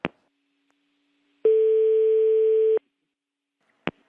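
A telephone line tone after a prank call is cut off, one steady electronic tone lasting just over a second, framed by sharp clicks before and after, alone on a quiet line.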